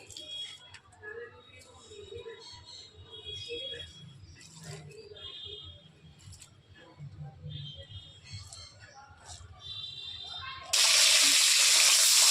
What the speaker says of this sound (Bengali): সেই জন্য একটুখানি জল দিচ্ছে হালকা করে।